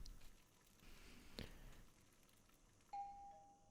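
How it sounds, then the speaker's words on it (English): Doorbell ringing in a visual novel video game: a single clear chime sounds near the end after a quiet stretch, with faint muffled sounds before it. "Suddenly the doorbell rang."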